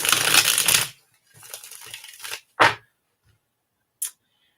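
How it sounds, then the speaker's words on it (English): A burst of card shuffling, riffling loudly for about a second, followed by softer rustles and a couple of sharp snaps as the deck is squared. "I'm going to shuffle over here so I don't shake the table so much."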